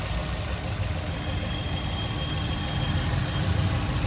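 A 2016 Maruti Suzuki Baleno petrol hatchback idles with its bonnet open, making a low, steady engine hum with a soft rattle throughout, heard up close and with no talking.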